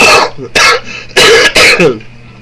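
A person with a cold coughs four times in quick, harsh bursts, close and loud, with brief raspy throat-clearing between the coughs.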